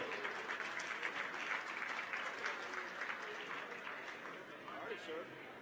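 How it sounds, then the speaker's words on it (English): A crowd applauds steadily throughout at a Florida State football event, a dense wash of clapping at moderate distance with a faint voice mixed in. "Please give it up, a big round of applause"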